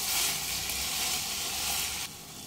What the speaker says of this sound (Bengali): সমস্ত মশলার সঙ্গে আমি 3 থেকে 4 মিনিট একটু কষিয়ে নেব।